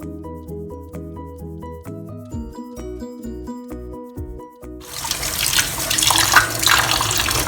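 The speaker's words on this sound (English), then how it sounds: "Now I'm going to rinse this in plain water again for about 3 or 4 times." Running tap water gushes steadily into a sink, rinsing pig large intestine, a broad splashing rush that starts after a few seconds of plucked music.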